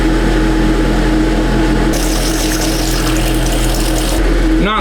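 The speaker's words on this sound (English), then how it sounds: "Okay, there's water flowing." Small electric water pump running in a van's plumbing system, a steady loud hum with water rushing through the lines, the flow surging brighter midway before settling back.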